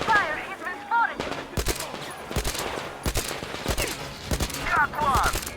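Gunfire in the Metro Exodus video game, sharp loud shots in quick bursts and single cracks on a pier, with shouted voices and radio chatter between them.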